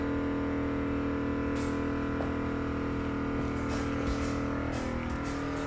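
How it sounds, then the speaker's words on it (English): An air ride suspension compressor on a 1950 GMC pickup with a 1UZ engine hums steadily as it refills the air tank, a constant motor drone with faint higher hiss pulses over it. "You can hear now the compressor's kicked in. That's because my tank pressure has dropped down"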